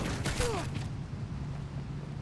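Incoming rocket fire in Call of Duty: Ghosts, a burst of loud blasts and a descending whistle over the first second, then fading to a low steady rumble.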